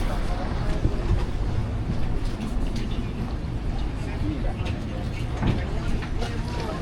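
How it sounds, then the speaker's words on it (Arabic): A boat on Lake Como moves through the water under heavy wind buffeting the microphone, a loud, steady rumble and roar throughout. "دي مركب تانية مختلفة، المركب دي مختلفة عن الأولى اللي ركبناها"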